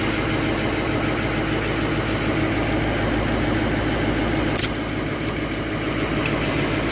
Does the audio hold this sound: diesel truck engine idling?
yes